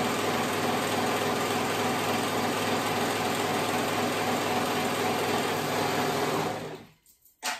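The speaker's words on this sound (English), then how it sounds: "And I'm gonna sew that raw edge together." A sewing machine stitches the raw edge of a folded dress strap, running steadily and close for about six and a half seconds before stopping abruptly, with a brief clatter at the very end.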